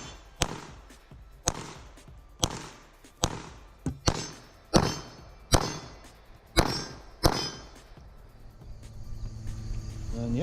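A Smith and Wesson SD9VE 9mm pistol fires about ten sharp, loud shots at a steady pace of roughly one per second on an outdoor range, each crack ringing briefly before the next.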